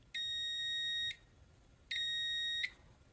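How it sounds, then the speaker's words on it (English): Two steady, high-pitched electronic beeps from a multimeter continuity test, each lasting under a second and separated by a short pause, against a quiet background. "when you touch the leads together, it will beep"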